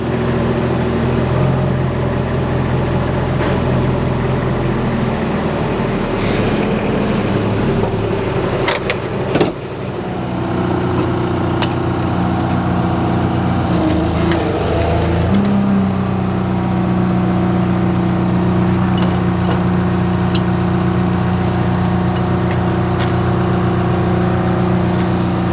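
RTV utility vehicle engine running as the machine drives onto a trailer, a loud, sustained mid-pitched drone that shifts in pitch partway through and then settles into a steady hum.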